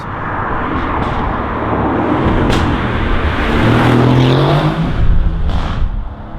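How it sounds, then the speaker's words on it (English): A loud Aston Martin Vantage V8 engine with sports exhaust roars steadily, its deep exhaust note rising and swelling as it accelerates close by. "with the sports exhaust on this one, just how amazing it sounds"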